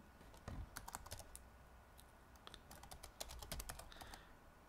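Quiet typing of ActionScript code on a computer keyboard, heard as irregular clusters of clicks with a brief pause partway through, set against soft room noise with no one speaking.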